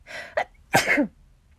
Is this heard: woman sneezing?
yes